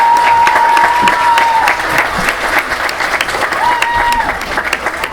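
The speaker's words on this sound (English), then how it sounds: "Let's give them all a round of applause" Loud, dense applause from a school audience at a fourth-grade ceremony honoring the 2017 student council, steady for about five seconds with a brief high whistle-like tone sounding twice through the clapping.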